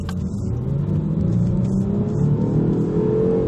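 A 2015 Range Rover Sport with a V6 engine drones steadily from inside the cabin, a loud continuous low rumble that swells slightly as it revs, with no talking over it.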